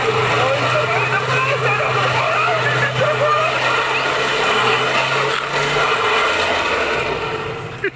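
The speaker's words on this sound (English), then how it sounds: "Oh, he's gone into second gear now." A stunt car performs at the Gaydon car show in the UK, running on small wheels and dollies. The engine roars loud and continuous with squealing tyres for about eight seconds, then eases off at the end.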